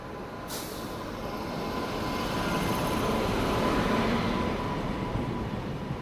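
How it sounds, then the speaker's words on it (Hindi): A train rolls slowly into a station at night, a low continuous rumble that swells gently toward the middle and eases off, with a brief hiss of air brakes near the start. "ऐसा लग रहा है कि बहुत ही स्लो रफ्तार में ट्रेन आ रही है वो"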